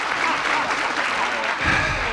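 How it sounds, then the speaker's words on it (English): Studio audience at a 1972 syndicated TV game show breaks into sustained, dense applause, steady and fairly loud throughout with a brief swell near the end, no talk over it. "I see no reason for that much applause this early in the evening."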